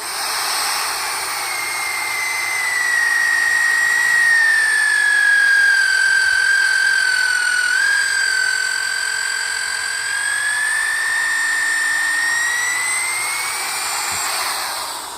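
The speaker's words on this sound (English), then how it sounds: "I'm going to go here and I'm going to just drill a hole right on through this." A power drill with an auger bit whines steadily and loudly as it bores through wood, the pitch dipping slightly under load before rising again, continuous throughout.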